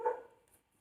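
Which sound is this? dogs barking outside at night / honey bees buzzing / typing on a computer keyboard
dogs barking outside at night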